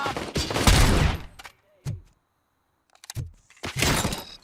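Gunfire in Robocop Rogue City, loud bursts at the start and end with a few sharp isolated shots between, close and punchy.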